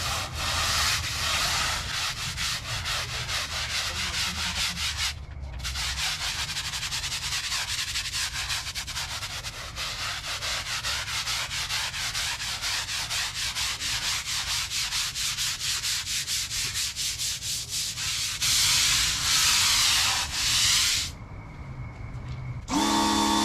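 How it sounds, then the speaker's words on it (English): A brush is scrubbed hard back and forth over a chemical-treated concrete driveway in a rapid, steady rhythm, close and loud, with brief pauses between strokes. "I'm gonna scrub it anyways"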